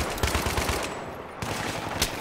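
Automatic gunfire from an online first-person shooter rattles in rapid, loud bursts with a brief pause in the middle, and almost no talk over it.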